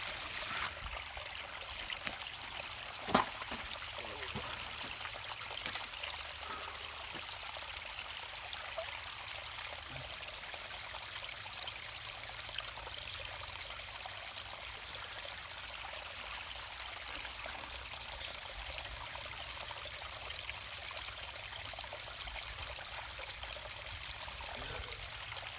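Creek water flows with a steady, soft rushing wash that continues unbroken at a moderate distance, with an occasional faint knock and no voices.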